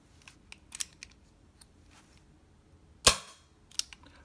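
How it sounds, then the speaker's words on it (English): A sharp, quiet pop rings out once as a .22 rimfire primer fires without a bullet in a semiauto, with a few small clicks and snaps of handling before and after. "there's a loaded primer. Again, there's no bullet, it's just the primer."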